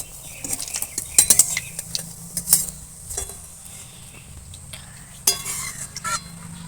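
Fried eggplant fritters (beguni) lifted from hot oil with a metal utensil, giving clinks and scrapes against the pan over a low sizzling bed, with a few sharper metallic taps.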